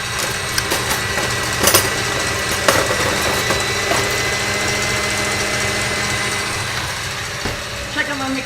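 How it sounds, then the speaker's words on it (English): A kitchen stand mixer runs with a steady, close mechanical whir and hum throughout, with a few light clicks and knocks over the motor drone. "Check out my mixer a little bit more."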